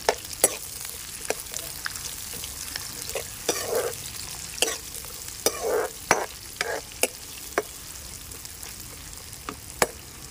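Chopped onion stirred in hot oil for tomato rice, a soft continuous sizzle broken by frequent sharp spatula scrapes and clicks against the pan, close and alone.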